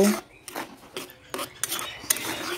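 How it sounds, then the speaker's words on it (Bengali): Spices with cumin powder and chopped green chilies being sautéed for a paneer curry, a spatula scraping and knocking a pan in a quick irregular series of close strokes, no talk. "একটু মশলাটা ভালো করে আমি ভেজে নিচ্ছি, কষিয়ে নিচ্ছি।"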